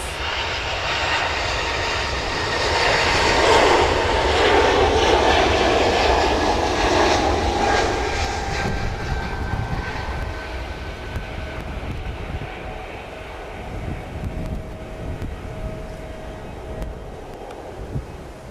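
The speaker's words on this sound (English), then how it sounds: "Air France heading off" An Air France airliner takes off at Manchester Airport, its jet engines roaring loudly with a broad rushing blast that peaks early and then fades steadily as the aircraft climbs away, leaving a thinning whine.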